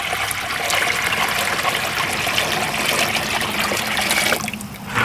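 Water pours steadily from a bucket into a box turtle enclosure, a continuous close splashing gush that spills over the edge, then briefly thins before surging again at the end.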